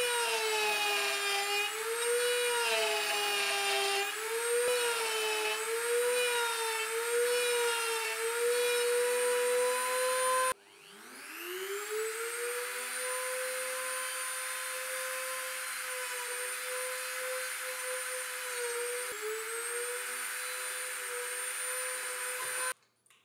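A combined drill press and router workstation mills a cover down to make it thinner, giving a loud, steady high-pitched motor whine with cutting noise; it drops and spins back up midway, then runs on until it stops.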